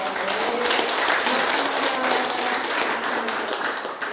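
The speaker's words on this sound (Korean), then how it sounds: "남신도 그냥 박수 한번 쳐줘야겠어요." A church congregation gathered for Sunday worship applauds the men's fellowship, a loud, dense wash of many hands clapping at once, steady and sustained from start to finish.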